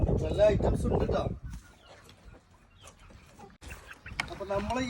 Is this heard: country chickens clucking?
yes